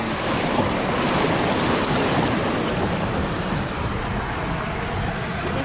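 Rushing water pours down through rocks in the mountains around Ouray, Colorado, a steady loud broadband roar that holds evenly from start to finish, with no voices.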